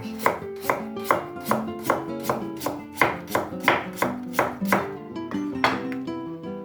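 A potato being sliced thin with a knife on a board, about fifteen crisp, evenly paced chops close up with no talking.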